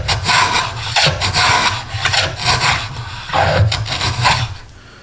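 A Stanley hand plane cuts a rabbet in wood, giving repeated rasping strokes in a steady back-and-forth rhythm, close and fairly loud with no talk.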